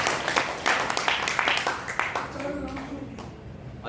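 An audience at an Arya Samaj gathering claps to welcome a visiting Acharya, a brisk burst of applause that fades after a couple of seconds into quieter room sound.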